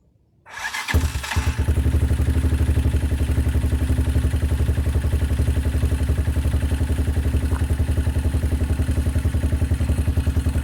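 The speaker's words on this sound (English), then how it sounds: "First startup since the clutch." A Bashan Brozz 250 motorcycle engine starting for the first time after a clutch, basket and heavy-duty spring change, catching after a second and settling into a loud, steady close idle that runs alone without talk.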